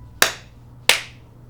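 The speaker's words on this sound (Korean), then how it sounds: "박수 한번 쳐드리죠." Two sharp, isolated hand claps ring out close by, spaced about two-thirds of a second apart, each decaying quickly into quiet.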